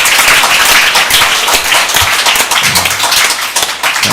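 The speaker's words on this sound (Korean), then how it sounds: "여러분 서로 옆에 사람 쳐다보면서 감사의 박수 한번 하겠습니다" A church congregation claps together during a New Year thanksgiving service, a loud, dense wash of applause that carries on steadily throughout, with a brief murmur of voices near the end.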